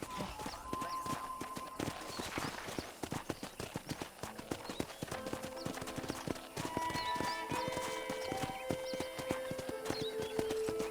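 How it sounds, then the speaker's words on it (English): Horse hooves clip-clop steadily at walking pace on a property ridden around with a general store, close and clear over game-like ambience with a short whinny and soft background music tones. "let's see if you can still ride a horse"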